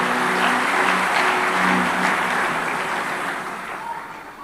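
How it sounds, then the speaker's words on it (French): An audience in a church applauds a choir, a dense, steady wash of clapping that stays loud and then eases off slightly toward the end. "acclamons cette chorale."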